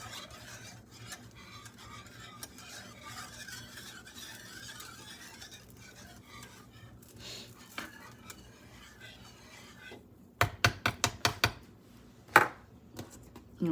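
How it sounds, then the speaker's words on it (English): A spoon works around a pot of thickening vanilla-cinnamon pudding, soft scraping and stirring at first, then a quick run of sharp metallic taps and knocks against the pot. "You want to scrape down the edges, make sure the corners in the inside of your pot, you got it good."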